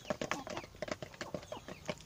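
Well-fed farm chickens at sunrise feeding time, a close flurry of rapid clucks, pecks and scratchy calls in quick irregular bursts.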